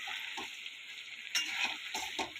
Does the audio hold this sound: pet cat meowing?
no